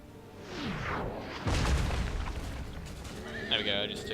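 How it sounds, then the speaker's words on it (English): Cannon artillery exchanging fire in Empire: Total War, a Great Britain versus Sweden online battle, with several heavy booms and rumbling blasts in the foreground, the loudest near the middle, along with other battle noise and a brief higher tone near the end. "It's just an exchange of artillery here."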